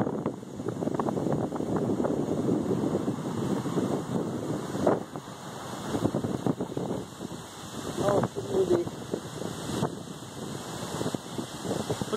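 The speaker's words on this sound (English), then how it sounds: "It's getting windier." Strong gusting wind at the start of a storm in Marion roars steadily into the microphone with heavy buffeting and rumbling, loud and continuous throughout, with no voices.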